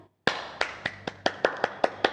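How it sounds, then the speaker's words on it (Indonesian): Hand claps at a Balinese storytelling performance, about ten sharp separate claps in an uneven rhythm, near and fairly loud, after a short silence. "penonton tepuk tangan dong"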